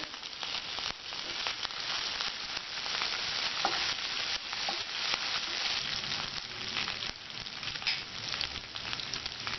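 A steady, dense sizzle of spices and coriander leaves crackling in hot oil for pongal fills the whole stretch, with faint pops and occasional soft stirring scrapes, close and fairly loud.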